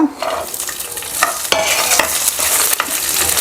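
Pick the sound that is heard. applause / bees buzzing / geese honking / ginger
ginger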